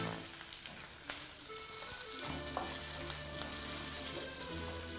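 Green chilies and curry leaves sizzle and crackle in hot coconut oil, a close, steady frying hiss with small pops and no talking.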